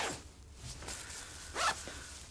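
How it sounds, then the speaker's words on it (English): Zippers on a VIKTOS Zero Dark tactical jacket are pulled in a few quick, quiet rasping strokes close by, with one louder zip near the end. "Zippers move real good."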